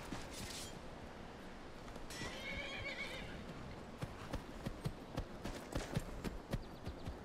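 A horse in the video game Skyrim whinnies in a loud, shrill burst, then its hooves clop in a quick, uneven rhythm close by, the footfalls growing sharper toward the end.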